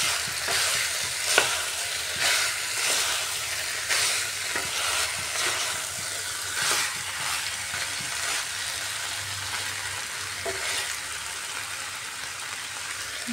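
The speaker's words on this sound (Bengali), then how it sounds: "এটা দিয়েও একটু ভালো করে কষিয়ে নিতে হবে চিকেনের সাথে কাবুলি ছোলা আলু।" Chicken, chickpeas and potato stir-frying in a pan, with a steady close sizzle and recurring scrapes and stirs of a spoon throughout, no talk.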